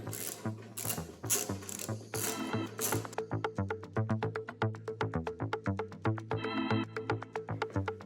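A hand ratchet clicks in quick, close bursts while loosening the bolts that hold an arcade monitor tube in its frame during a Dragon's Lair cabinet restoration. Short pauses separate the runs of crisp pawl clicks.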